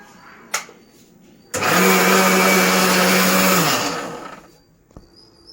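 A mixie grinder runs on soaked rice with jaggery and coconut pieces, starting abruptly into a loud steady whirring drone for about two seconds, then winding down; faint clicks before and after.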